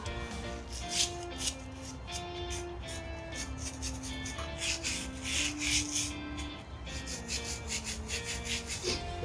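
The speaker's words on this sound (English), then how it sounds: "She doesn't like me brushing her front legs, so I'm just going to do it gently just to get the little bits of mud that are on off." A brush sweeps gently over a horse's front legs to clear bits of mud in winter, giving soft, close, repeated scratchy strokes in an irregular rhythm.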